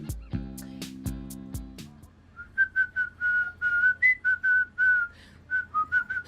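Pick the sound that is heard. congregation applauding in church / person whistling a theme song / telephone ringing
person whistling a theme song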